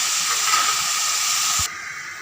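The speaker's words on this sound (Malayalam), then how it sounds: "ഇതിങ്ങനെ ഒന്ന് മൂടി വെക്കുന്നാൽ അത് വറുത്ത് ഇരുന്നങ്ങ് വാടി വരട്ടെ" Mushrooms fry in a covered pan, giving a steady, loud steam hiss up close that drops abruptly near the end.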